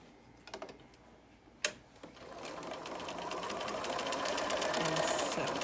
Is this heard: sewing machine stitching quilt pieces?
yes